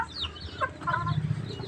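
Two chickens clucking at close range in a short burst of overlapping, irregular clucks and soft squawks, with no talking.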